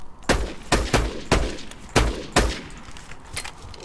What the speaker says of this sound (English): Just have a little shoot down there.